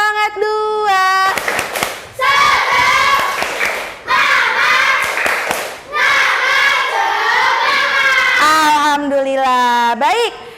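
Children in a classroom perform a second 'tepuk semangat' clap-and-chant, loud group voices chanting in bursts with claps between, a teacher's voice opening and closing the routine.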